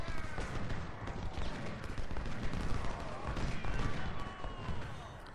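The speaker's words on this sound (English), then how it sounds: "we're going to kind of let his artillery fire for a while here" Artillery fire in the Ultimate General: Civil War video game, with dense overlapping cannon booms and crackling volleys rumbling continuously across a noisy battlefield.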